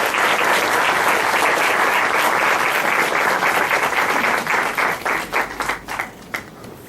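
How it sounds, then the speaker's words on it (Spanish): Seminar audience applauding at the close of a talk: dense, loud clapping from a full room that holds steady, then thins into scattered claps as it fades. "Bueno, pues voy a pedir un aplauso para Roberto y para Ana Laura."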